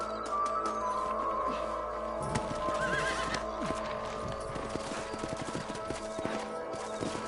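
Horses whinny and snort in the video game Red Dead Redemption while hooves clip-clop steadily, with faint clattering in the background; a busy outdoor scene with no talking.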